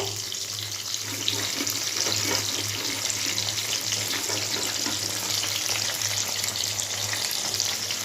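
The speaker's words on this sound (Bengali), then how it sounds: "এইভাবে আমি পটলগুলোকে ফ্রাই করে নেব" Pointed gourds (potol) fry steadily in hot oil for a chana potoler dorma, giving a continuous close, loud sizzle and crackle with no talking.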